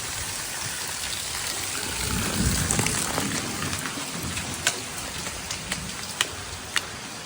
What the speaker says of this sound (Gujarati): વરસાદ ઘણી કરી છે